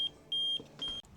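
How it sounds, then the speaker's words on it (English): A tire pressure monitoring alarm for an RV, truck and trailer sounds three short, high-pitched electronic beeps, faint and spaced unevenly over a quiet background, with no talking. "you hear a high-pitched beep of an alarm when the sensors are removed to 0 PSI"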